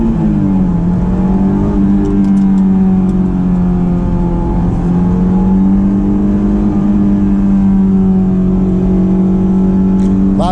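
A Honda S2000 engine drones loud and steady close by as the car accelerates along a twisty road, its pitch holding a constant hum with slight rises throughout.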